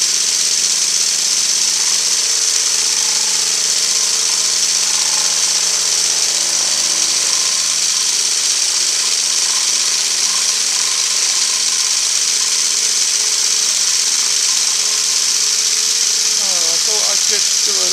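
A Lime hand shaper machines metal as its handle is wound up to the stop and back, making a steady mechanical hum with light rattling and faint ticks near the end. Someone talks over it.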